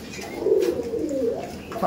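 Kabji pigeons in a loft coo in a low, rolling murmur, a sustained throaty call that swells and fades close by, with faint background noise.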